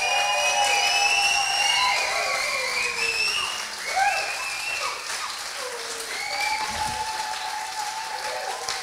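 An audience at a startup event in Bali applauds and whistles to welcome a speaker onstage, sustained dense clapping with shrill whistles and cheers, loud and continuous throughout.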